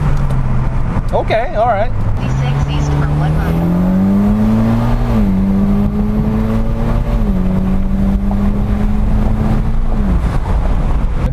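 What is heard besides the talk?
Mitsubishi Lancer Evolution X MR accelerating in first gear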